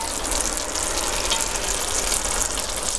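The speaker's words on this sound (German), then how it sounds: "wir werden jetzt einmal schön die Butter zerlaufen lassen und werden dann da rein unsere leckeren Wurstspieße geben" Butter melts and sausage skewers fry in a Dutch oven, giving a steady, close, continuous sizzle that holds at an even level throughout with no talking.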